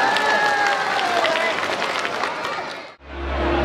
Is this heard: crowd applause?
yes